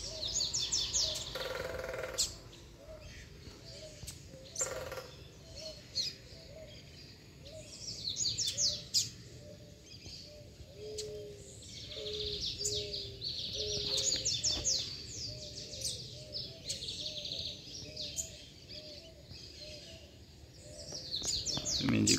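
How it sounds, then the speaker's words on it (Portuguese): A female wild songbird calls outdoors with repeated bright chirps and trills at moderate distance, over a lower, regularly repeated note pattern and soft background noise. "Ó a fêmea, cara, baixando o galho pro Braddock."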